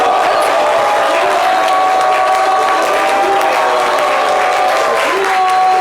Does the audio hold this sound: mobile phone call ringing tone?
no